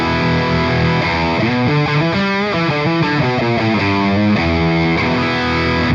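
Electric guitar played through an ENGL E650 amp model with no mastering processing, a continuous distorted tone with sustained chords and melodic movement, slightly muddy and thick in the low mids, loud and alone.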